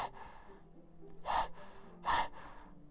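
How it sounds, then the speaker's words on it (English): A sharp inhale sucked through the teeth in Doki Doki Literature Club, heard as two distinct hissing breaths about a second apart, close and fairly quiet over a soft background hum. "It sounds like breathing. A sharp inhale, like someone is sucking the air through their teeth."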